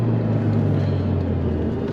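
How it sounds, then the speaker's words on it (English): A Porsche 997.1 Carrera S with Tiptronic-S automatic gearbox drives near Arrington Vineyards, its engine a steady, close, low droning hum through the downshift, with no pronounced rev change. "you can see the downshift there"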